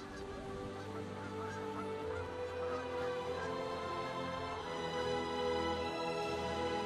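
Seabirds at a whale feeding frenzy in icy polar waters call constantly, a faint but steady chorus of honking cries over a continuous low wash of water.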